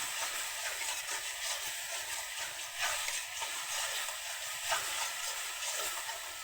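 Spice masala with turmeric sautéing in a pan for a prawn curry, a steady close sizzle and hiss with soft stirring scrapes, continuous and unbroken.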